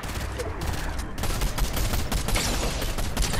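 Rapid Fortnite video game gunfire fills the whole stretch as dense, overlapping bursts of shots at a steady, loud level, with a faint voice underneath.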